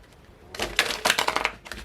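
Tarot cards are shuffled by hand in a brief burst of quick, crisp riffling and tapping that starts after a quiet half second, close and fairly soft, with no voices.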